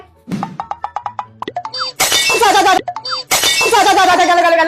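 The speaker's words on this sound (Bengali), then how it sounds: "আমার এত দামের কাঁচের গ্লাসটা পুরো পড়ে ভেঙে গেল" A glass tumbler falling in a home kitchen, a ringing clatter of clinks and bounces, then loud bursts of shouting voices over it.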